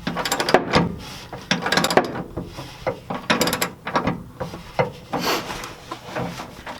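A hand ratchet with a socket tightens the air valve of a Firestone Ride Rite air spring on a 2013 Chevy Silverado, making close, crisp bursts of rapid clicking in short repeated strokes with brief pauses between.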